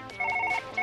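A telephone trills in Surgeon Simulator, two quick electronic ringing bursts separated by a short pause, loud and close with no talking.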